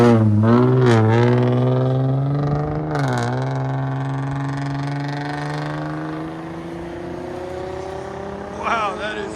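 A 2016 Hyundai Genesis Coupe 3.8L V6 with its muffler deleted, keeping the factory resonator and tips, revs loudly up close, its deep exhaust tone climbing and falling through several strong blips before settling into a raspy idle.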